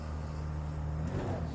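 A Porsche 911 RSR race car in the video game Project CARS 2 drones at a steady low engine tone, fairly quiet and close, with a brief swell of revving near the end.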